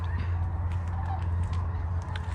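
A large flock of snow geese honking near a lakeside park, a dense continuous chorus of overlapping calls over a low rumbling background.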